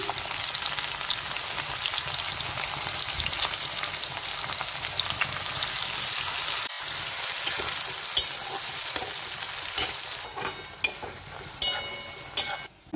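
Bay leaf, cumin, ajwain and chopped onions sizzle steadily in hot oil for chhole, a dense continuous crackle with occasional sharper pops and spatters toward the end, no voices.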